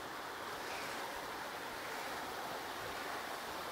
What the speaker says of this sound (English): So if we go closer, you can actually hear the water running.